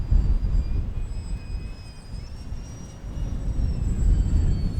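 A HobbyKing Hawker Tempest RC model airplane flies in wind with a steady electric whine, and its buzzing fades slightly at midpoint before swelling louder again over constant low wind rumble.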